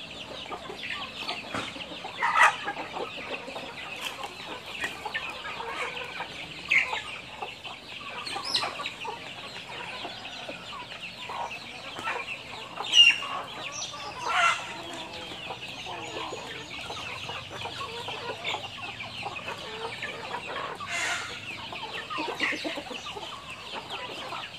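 Free-range domestic chickens raised naturally on a farm cluck and chatter around the yard, a loose scattering of calls with a few louder squawks standing out over quiet background.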